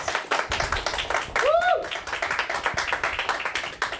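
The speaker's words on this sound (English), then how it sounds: "can we get a round of applause, please?" A tiny audience of about five people claps at an online music showcase, a thin, patchy patter of a few hands with a sliding tone and voices running underneath.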